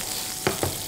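Onion frying in a pan at a mushroom-festival cooking demonstration, a steady faint sizzle with two short louder bursts of stirring or spattering partway through.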